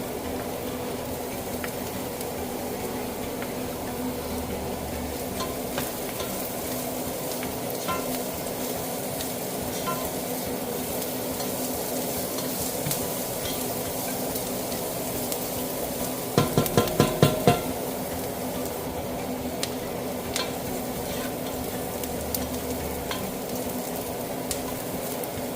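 Garlic sautéing in a pan for a ginataang langka with pork and shrimp, a steady close sizzle of frying with occasional stirring scrapes and a brief clatter of utensils midway, no talking.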